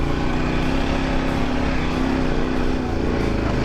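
An already overheated dirt bike climbs back uphill toward a road on the Idaho Backcountry Discovery Route, its engine droning loud and steady under throttle throughout, close to the rider.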